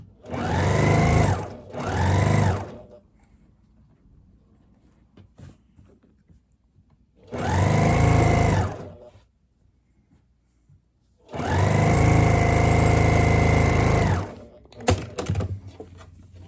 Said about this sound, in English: So now basically I've stitched both ends together, and I have a big tube of fabric.